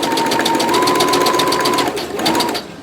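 A sewing machine runs a fast, even stitch along the top of a grocery bag handle, loud and close, then slows and briefly restarts before stopping.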